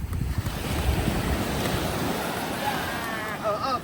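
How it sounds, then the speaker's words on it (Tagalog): Strong ocean waves at a beach resort, a continuous loud wash of surf mixed with wind buffeting the microphone, with faint voices toward the end. "Ang lakas ng waves."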